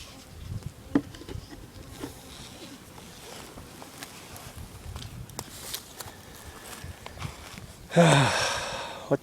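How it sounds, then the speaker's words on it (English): Bees buzzing near a bee lure outdoors in Japan, a soft steady insect drone with scattered faint rustles, then a sudden loud close buzz swelling near the end as a trapped bee struggles. "One of my bees got trapped checking out my bee lure."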